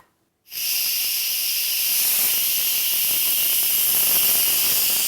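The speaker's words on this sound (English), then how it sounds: "See, this steam doesn't go straight up. This valve is tipped back a little bit." Loud, steady steam hiss rushing from an Instant Pot's pressure release valve as chili finishes cooking, starting abruptly after a brief silence and holding constant to the end with no talk.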